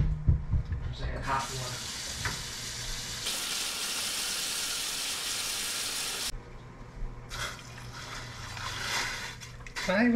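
Tap water runs steadily into a pot or sink while macaroni is being cooked at home, a loud broadband rush with a brief pause near the middle, heard alone without talk.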